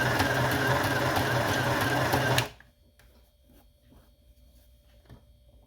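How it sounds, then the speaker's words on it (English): A sewing machine stitches a French seam in one loud, steady run of rapid motor whir and needle clatter that stops abruptly about halfway through, leaving only faint small handling sounds afterward. "You make sure you stitch along the stitching line."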